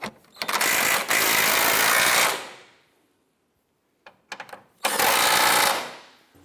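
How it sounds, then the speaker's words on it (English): A tool, likely a ratchet, tightening front subframe bolts on an Acura TL during a transmission mount job, heard as two loud mechanical whirring bursts separated by a pause with a few short clicks. "I'm going to go ahead and tighten down our front subframe bolts."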